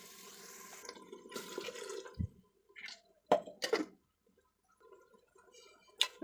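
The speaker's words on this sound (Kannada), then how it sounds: "ಸ್ವಲ್ಪ ನೀರನ್ನು ಮಿಕ್ಸ್ ಮಾಡಿ ಜಾರ್ನೆಲ್ಲ ತೊಳೆದು ಆ ನೀರನ್ನು ಹಾಕ್ತಾಯಿದ್ದೀನಿ" Water used to rinse a mixer jar is poured into a pot of sambar in a home kitchen. Short splashing pours and drips alternate with quiet gaps and a sharp clink or two.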